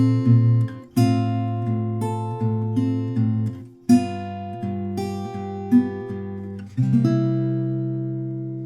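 Fingerpicked acoustic guitar playing the intro of a song, a steady rolling pattern of plucked notes with bass strums every second or so, close and clear with no voices.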